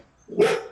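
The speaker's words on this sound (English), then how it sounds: "Sorry about the dogs." A single short dog bark rings out, fairly loud and close, after a moment of quiet.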